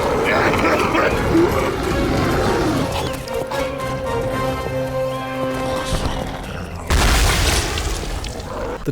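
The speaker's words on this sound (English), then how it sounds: "You can throw a bunch and detonate them all at once, resulting in an entire mob exploding" Loud, booming explosions and growling monster roars from the first-person shooter Painkiller: Overdose, sounding continuously and ending in a harsh blast burst near the end, with no talk over them.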